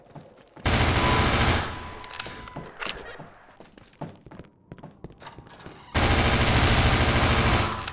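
Half-Life 2 gunfire on the Highway 17 level, with loud sustained bursts of automatic fire at the start and end and scattered single shots and impacts in between.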